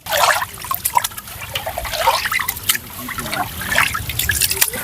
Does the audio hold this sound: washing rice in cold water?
yes